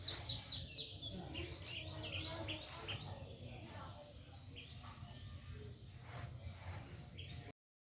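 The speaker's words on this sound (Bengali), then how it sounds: "আশা করি তোমাদেরও খুবই ভাল লেগেছে পাখির ডাকটা" Several birds call and chirp repeatedly in a calm outdoor setting where watercolour painting is done among flowers and foliage, their bright, fairly close calls layered over a steady low background rumble throughout.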